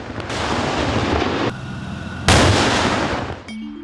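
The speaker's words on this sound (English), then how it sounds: "They conducted their first live firing at the Sungai Gedong training area, both in the day and in the cover of night." A Leopard 2A4 tank fires live rounds at a training area, heavy booming blasts cracking out in quick succession at close range, loud and without speech.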